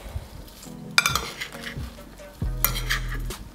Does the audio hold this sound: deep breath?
no